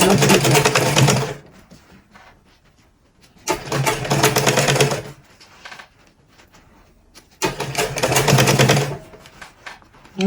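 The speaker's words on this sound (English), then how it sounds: "Remember, we are sewing in a circle manner, in a circle form." A sewing machine stitches pleated turban fabric in a circle. It runs in three separate bursts of steady, close whirring, each lasting about one to one and a half seconds, with quiet pauses between them.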